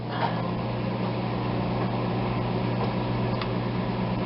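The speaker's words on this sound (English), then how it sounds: "1 minute in the microwave ought to do it" A microwave oven hums steadily, a constant low mechanical drone with faint ticks, close by and without speech.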